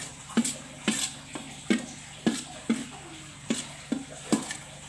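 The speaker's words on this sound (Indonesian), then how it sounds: "Kita tumis bumbunya." Spicy spice paste for nasi goreng is sautéed in a pan, with a spatula knocking and scraping in a regular rhythm about every half second over a faint, steady sizzle.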